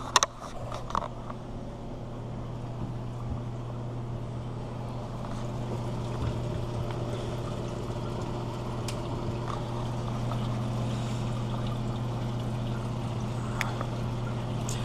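Water runs through the sump under a 90-gallon aquarium in a steady, low gurgle with a constant pump hum, heard close by with a few faint clicks near the start.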